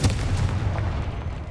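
A Confringo blasting spell goes off in Hogwarts Legacy, a single heavy boom at the onset whose rumbling low tail fades slowly over more than a second, with no talk.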